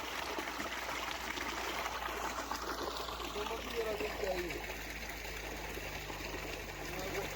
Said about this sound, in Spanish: Te estoy diciendo que está bajando mucha agua.